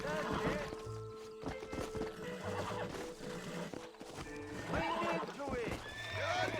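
Horse neighs and whinnies repeatedly in Red Dead Redemption, loud and close amid a busy game soundscape with hoof clip-clops, while someone talks over much of it.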